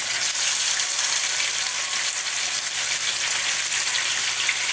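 Quail hissing loudly as it is laid skin side down into dark amber caramelized sugar in a deep pan, a dense steady sizzle with no pauses.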